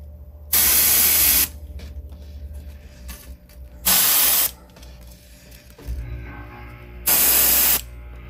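Three bursts of spray-paint hiss through a stencil onto a fishing lure, each lasting about a second, evenly spaced with quieter rattling and handling noise between them.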